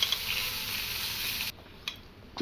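Mint thokku sautéing in oil over a slow flame makes a steady, close hiss of sizzling. It drops off abruptly partway through and leaves faint crackles and a couple of soft clinks.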